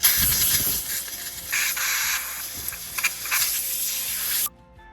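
A compressed air hose blows off a farm corn head in a loud, steady hiss with a few scraping knocks underneath, cutting off sharply just before the end.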